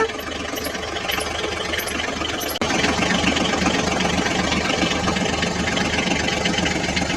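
A toy mini tractor's small engine runs steadily, a buzzing mechanical drone with a rapid knocking rhythm, close and constant, briefly dipping then resuming slightly louder partway through.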